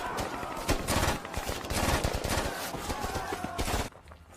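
Heavy battle gunfire in a film attack scene: dense, continuous bursts of rapid automatic shots with loud cracks, sustained for several seconds before cutting off abruptly.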